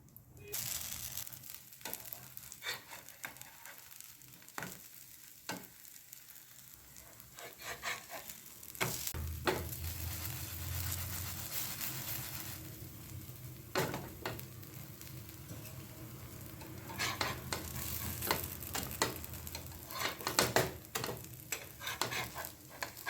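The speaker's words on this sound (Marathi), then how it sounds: "आणि थोडंसं तेल टाकून आपण हे पलटी करून घेणार आहोत दोन्ही बाजूने आपल्याला हे छान खमंग शेकून घ्यायचं आहे" A grated potato breakfast cake shallow-frying in a little oil, with a steady soft sizzle and occasional scraping and flipping clatter from a spatula, fairly quiet and close.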